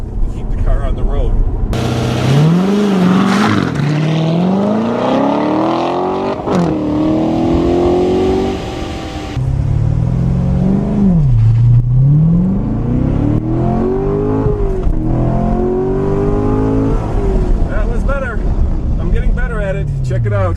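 A 2014 Chevrolet Corvette Stingray launches hard on a poor surface, its engine rising through several revving, accelerating sweeps with gear-change dips, loud and close, with some talk over parts of the run.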